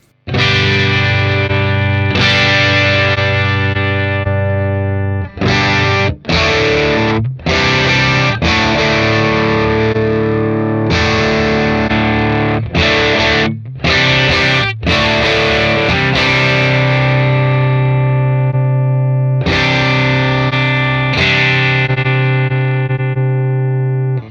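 Loud distorted electric guitar through a Mooer Radar pedal with a simulated SM57 microphone, strummed chords sustained and cut off repeatedly with brief gaps, alone without any talking.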